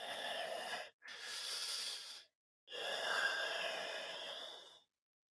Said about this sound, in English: I missed a spot with creepy breathing